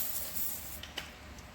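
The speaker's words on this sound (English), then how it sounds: "I spray all the bolts." Penetrating oil sprayed onto rusty bolts of a wrecked 2012 Mitsubishi Lancer Evolution GSR: a faint, steady hiss with a couple of short spritzes near the end, quiet and alone.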